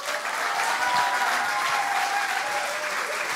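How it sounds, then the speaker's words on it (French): A studio audience at a televised Swiss stand-up comedy talent show breaks into dense, sustained applause for a comedian, a steady roar of many hands with no speech over it. "Hey, tonnerre d'applaudissements pour Jérémy"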